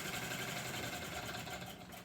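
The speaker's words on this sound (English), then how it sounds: "If I blow at the fire, weakens the flame, the engine slows down." Small model steam engine heated by a flame, running with a continuous faint mechanical whir and rapid rhythmic chuffing, heard alone and close.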